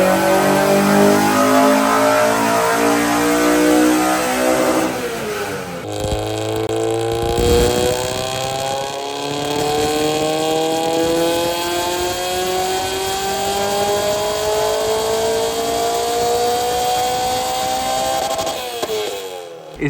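Car on a dyno fitted with a velocity stack air intake in place of the stock intake, engine revving loudly and close, climbing steadily through a long pull before dropping off near the end.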